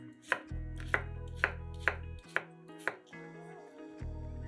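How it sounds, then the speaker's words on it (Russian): Knife chopping cucumber slices into small cubes on a cutting board for a salad, six crisp, evenly spaced chops close by with a low hum underneath. "А затем пластинки режем кубиками."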